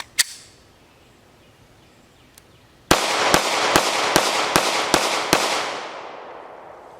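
A Beretta APX A1 pistol fires one sharp shot, and after a pause a rapid string of about seven loud, evenly spaced shots follows. Each shot rings out and leaves an echoing tail outdoors.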